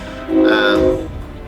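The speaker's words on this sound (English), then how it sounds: "there's a train passing" A train horn sounding in SpongeBob: Battle for Bikini Bottom as a train passes, one sustained tonal blast of about a second, loud and close, fading at the end.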